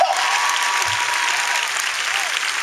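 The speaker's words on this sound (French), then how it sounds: "Acclamons la sœur." A church congregation bursts into steady, dense applause, sustained clapping filling the room from start to finish, with faint voices mixed in.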